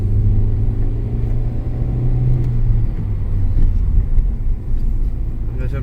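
A Hyundai i20 petrol car being driven, with a steady low engine and road rumble from inside the cabin and a slight shift in engine tone partway through.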